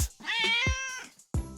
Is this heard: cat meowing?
yes